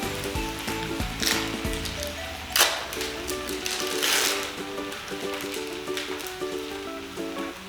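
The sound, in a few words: buttered bread sizzling in pan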